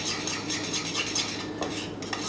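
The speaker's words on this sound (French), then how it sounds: "On mélange un petit peu." Seasoned food being mixed in a dish, with repeated scraping and clinking of a utensil against the dish in a quick, uneven rhythm, close up and without talk.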